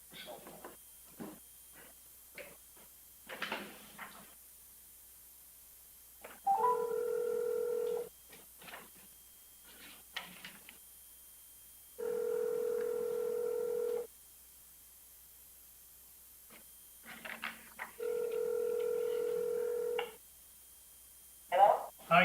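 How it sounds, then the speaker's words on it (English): A cell phone is dialed on speakerphone at a city council meeting: faint keypad tones, then three long steady ringback tones separated by gaps, with quiet voices and room murmur in between. "Let's try her cell phone."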